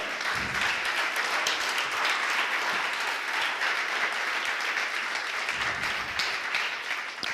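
A church congregation applauds during a sermon, a full, continuous burst of clapping from many people that stays loud and even throughout, with brief low rumbles near the start and close to the end.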